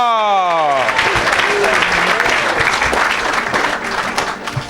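An audience at an evangelical church gathering breaks into loud, sustained applause and cheering as a sung or spoken voice tails off at the start, and the clapping fades slightly toward the end.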